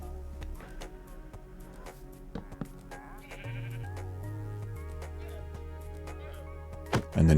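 Sheep bleating in Minecraft on a 1.21 Java automatic wool farm, several short, moderately loud bleats over a steady low game background, no talk.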